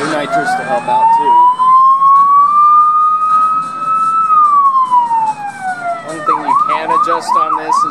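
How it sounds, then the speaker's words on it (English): A loud police siren in the arcade game Chase H.Q. 2 rises slowly and falls, then switches to a quick yelping pattern, sounding close and continuous. "Just on this is the sound of the siren."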